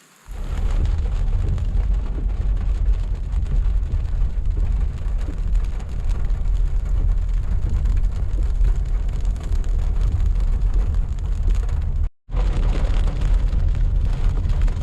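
A heavy rain and thunderstorm on the Colorado Trail near Green Mountain roars loud and constant for about fifteen seconds as dense rainfall mixes with deep rumbling, cut off once by a short silent gap near the end.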